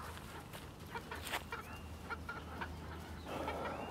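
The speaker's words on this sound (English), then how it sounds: "this chicken doesn't not even know how to get back in there" A brown chicken clucks softly and intermittently in a backyard setting, faint and close, with low background rustle.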